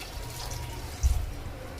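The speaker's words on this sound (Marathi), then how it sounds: "आता तुम्हाला गरजेनुसार जेवढं पाणी लागेल तेवढं पण टाकूया" Water poured into a pan of chicken curry simmering in spiced oil, a short splashing burst of close pouring rising out of a low, steady cooking background.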